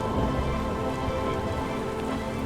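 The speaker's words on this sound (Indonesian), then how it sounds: "Hujan." Steady rain falls in a scene from an Indonesian TV drama, a continuous dense hiss of drops on surfaces, even and unbroken with no voices.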